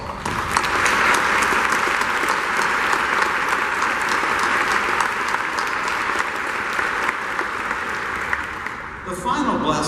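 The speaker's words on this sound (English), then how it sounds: "let's give them a round of applause" Audience applause at a university anniversary ceremony, a dense sustained round of clapping from a large crowd lasting nearly ten seconds before tapering off as a voice returns.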